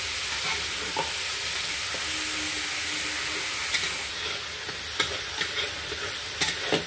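Spice masala of chilli powder and turmeric mixed with water sizzles in oil in a pan while being stirred, a steady hiss with sharp scraping clicks of the spoon against the pan, close and alone.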